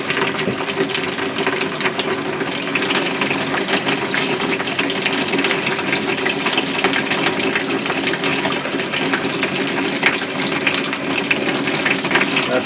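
Hot water gushes steadily from an RV faucet during de-winterization, a loud, even rush of flow with a constant splashing hiss throughout.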